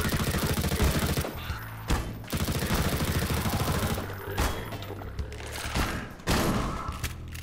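Shotgun fire in the video game Swelter: a series of sharp, close blasts spaced irregularly through a dense, noisy battle backdrop, with no speech.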